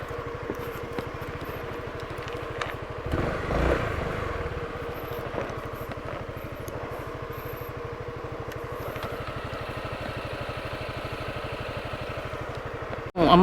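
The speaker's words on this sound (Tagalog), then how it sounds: "iba na yung tunog ng motor ko" A motorcycle engine idles with a rapid, even putter and a faint irregular clatter, near and moderately loud, with a brief louder surge early on before settling back to a steady run.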